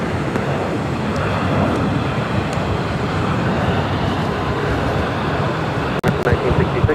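An American Airlines A321neo jet roars steadily at LAX during takeoff, a loud broad rumble that holds throughout with a voice faintly underneath.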